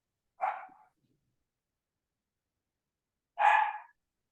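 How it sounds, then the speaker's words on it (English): A dog gives two single barks about three seconds apart, clear and fairly near, with silence between them. "Somebody's dog. It's a dog."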